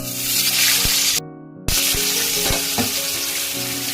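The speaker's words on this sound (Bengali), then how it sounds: "আমি প্রথমে বেগুনটা ভাজা করে নেব।" Eggplant fries in hot mustard oil in a wok, a loud close sizzle that cuts out briefly for half a second, then resumes with a few sharp clicks of a utensil against the pan.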